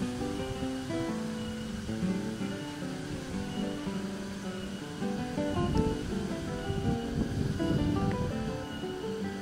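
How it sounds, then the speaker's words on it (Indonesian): Strong wind in Bandung roars steadily in a loud, continuous rush that sounds much like surf, with no break across the stretch. "Anginnya mulai gede."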